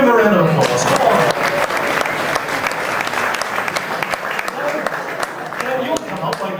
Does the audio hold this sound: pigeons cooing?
no